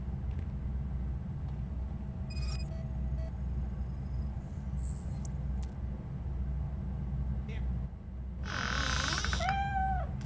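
A cat meows in the video game Robocop: Rogue City, with short high calls early on and a louder, wavering meow near the end over a steady low ambient rumble.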